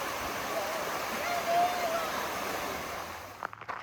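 Little Niagara, a small waterfall at a three-tiered swimming pool area fed by ice-cold water, gives a steady, moderate rush of falling water, with a few brief knocks near the end.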